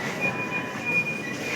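Delhi metro train running along the track, a steady close rumble with a faint high whine throughout, no talk.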